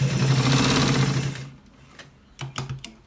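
Sewing machine running fast while stitching a shirt collar, a loud steady whirring hum that stops after about a second and a half, followed by a few short bursts of stitching.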